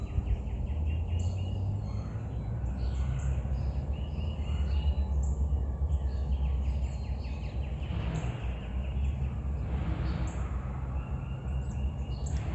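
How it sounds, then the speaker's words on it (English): Several birds chirp and call outdoors at a moderate distance, with steady background noise and a low hum running throughout. "I hear a lot of birds."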